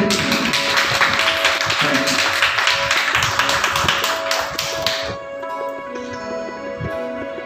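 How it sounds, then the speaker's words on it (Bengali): An audience at a prize-giving ceremony for a devotional singing competition claps loudly and steadily for about five seconds. The clapping then stops abruptly, leaving a quieter hum. "সবাই করতালি দিয়ে ওনাকে"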